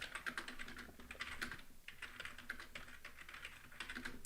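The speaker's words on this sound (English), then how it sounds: "I'm typing that on my X account." Steady rapid typing on a computer keyboard, key clicks close and clear in a continuous irregular patter with no voices.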